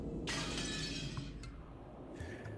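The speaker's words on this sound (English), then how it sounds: "The glass smashed with a violent sound," Window glass smashed with an antique chair: a sudden loud shattering burst that rings briefly, followed by a couple of small clinks and a second fainter crash, set against a low steady rumble.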